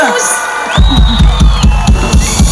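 A concert crowd at an outdoor night show cheers and applauds loudly, with whoops and shouting rising over rhythmic thumping music beats and a sustained tonal line.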